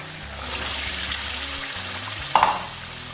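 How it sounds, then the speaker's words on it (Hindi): Chicken meets browned fried onions in a handi and sizzles loudly up close, with stirring scrapes and a sharp clink of a utensil near the end. "प्याज जो है वो अच्छी तरह से हो गई है फ्राई, और मैं इसके अंदर शामिल कर रही हूँ चिकन"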